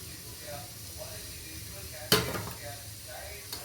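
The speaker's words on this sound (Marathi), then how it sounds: "कढई ठेवली तेल टाकले मोहरी टाकली" Mustard seeds sizzle in hot oil in a kadhai, a soft continuous hiss broken by one sharp burst of spattering near the middle and a small pop at the end, with a faint voice in the background.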